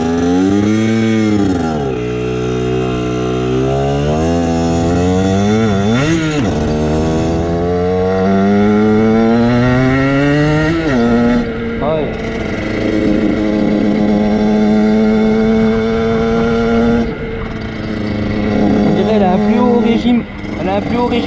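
A Beta RR 50cc motorcycle with its factory exhaust revs repeatedly, the two-stroke engine's pitch climbing and falling in long sweeps before holding a steady high buzz, loud and close, with people talking briefly over it.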